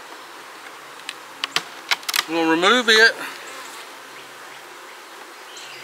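Honeybees hum steadily around a beehive as frames are handled, with several sharp clicks and knocks and a brief tonal swell; someone speaks briefly.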